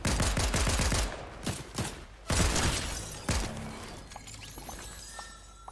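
Gunfire in the video game Fortnite rings out as a rapid string of sharp shots, then several heavier separated blasts that fade into quieter rattling and mechanical clicks, with no talking.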